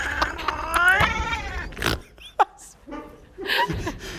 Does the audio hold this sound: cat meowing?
yes